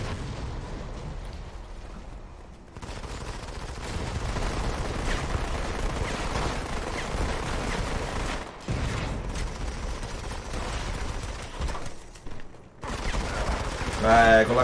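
Sustained gunfire and explosions in the mobile shooter Modern Combat 5 form a dense, rumbling barrage of rapid shots that runs throughout with brief breaks, and a voice talks over parts of it.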